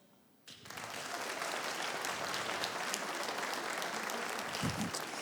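Audience applause breaks out in a comedy show hall after a short quiet moment, a dense steady clapping from the crowd that holds strong to the end.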